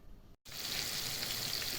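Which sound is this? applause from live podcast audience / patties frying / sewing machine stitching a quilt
patties frying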